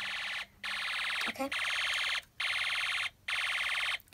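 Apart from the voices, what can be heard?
Snap Circuits toy burglar alarm sounding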